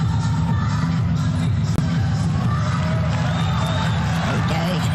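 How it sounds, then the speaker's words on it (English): A stadium crowd at an indoor world athletics championship roars and cheers for a 37-year-old Serbian shot putter stepping into the circle, a dense, sustained wall of cheering and whoops with one sharp bang partway through. "You can hear that ripple around the crowd."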